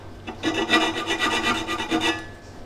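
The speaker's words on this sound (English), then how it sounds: "So I just used a file to take the edges off just here" Hand file rasping a burr off the edges of fan tinware on a classic Fiat 500 engine, a quick run of close, rhythmic scraping strokes lasting about two seconds, then stopping.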